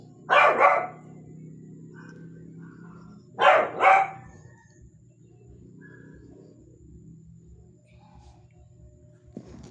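A dog at a neighbouring house barks in two short bursts of a few barks each, heard from a moderate distance over a quiet room hum.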